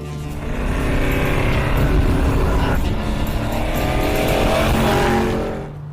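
A loud engine drone comes from a 1950 Mercury rat rod on the highway as fuel starvation from a struggling fuel pump in the heat makes it surge. The drone rises, wavers and tails off near the end.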